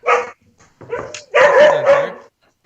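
A toy remote-control robot dog barks in several short electronic bursts, the last two longer and louder, clear and close with no talking over them.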